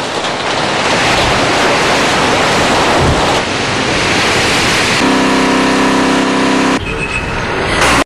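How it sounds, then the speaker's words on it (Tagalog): Loud, continuous roar of super typhoon wind and rain in the City of Pines, broadband and unrelenting, with a passing engine rumble joining near the end. "dahil nga sa tuloy-tuloy pa ring ulan at malakas na hangin"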